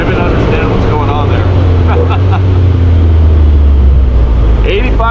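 A Segway SuperVillain UTV with a 2-liter engine and 6-speed automatic cruising at 85 mph around 4,400 RPM: a loud, steady engine drone with constant road and wind roar, and voices talking over it.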